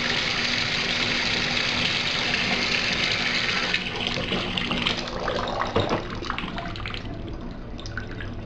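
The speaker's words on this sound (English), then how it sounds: "And just kind of build up some water, and then watch to see how it drains." Water pooled in a shower drain runs and drains away, a steady close rushing flow that turns splashier and more broken toward the end, with no heavy gurgling.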